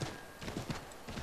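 Hooves clop rapidly in a steady galloping rhythm, fairly close, with a faint whinny mixed in; a horse galloping in the video game Assassin's Creed 3.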